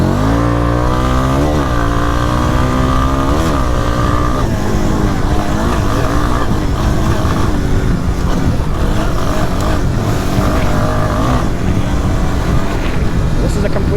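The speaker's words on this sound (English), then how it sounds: "it's a 2004 Yamaha Warrior 350. It's an air-cooled 4-stroke." A stock 2004 Yamaha Warrior 350 quad with an air-cooled four-stroke engine rides through sloppy ground, its engine droning steadily with repeated rises and falls in revs, loud and close under continuous talk.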